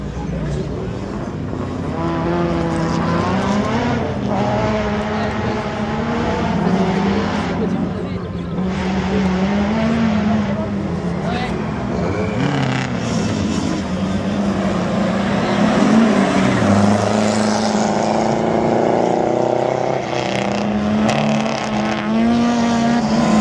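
A rally car runs a slalom course at Le Neubourg in 2017, its engine roaring steadily and loud throughout, revving up and down through the gates while a commentator talks over it.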